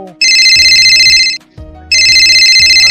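A loud electronic phone ringtone plays in repeating bursts with a short gap between them, a low pulsing beat underneath, with no talking.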